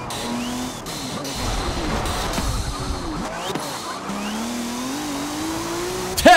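A car engine in a video game drones and shifts pitch, the revving rising and falling alongside tire squeals and skids, fairly loud and continuous with brief talk mixed in.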